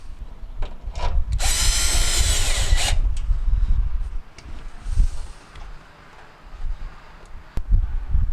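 A power drill drives screws into the blower housing of a Whirlpool dryer during a heating-element repair: one close, loud whirring burst of about one and a half seconds, followed by softer handling clunks and rattles, with no talking.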